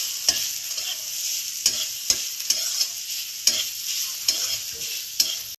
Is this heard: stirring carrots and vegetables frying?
yes